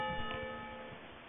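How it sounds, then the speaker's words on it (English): A bell calling the Penitentes in a village rings with a single steady tone that slowly decays, faint and low in a quiet, muffled old recording. "In the village, everyone knows they mustn't go out when this bell rings"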